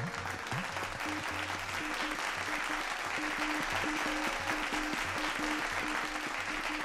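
Enthusiastic audience applause greets a performer at a Hindustani classical music concert, a dense, steady wash of clapping that carries on for the whole stretch with faint tonal sounds beneath.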